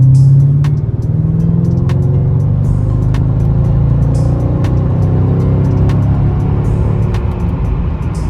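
A Mercedes E55 AMG's engine hums steadily and builds as the car accelerates onto a highway, with a low rumble and occasional faint clicks over the drone.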